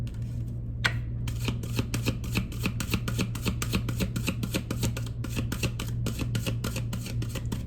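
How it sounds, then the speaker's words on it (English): Tarot cards are shuffled by hand close up, a rapid, steady run of crisp riffling clicks that continues for several seconds in a quiet room. "Give it a couple more shuffles"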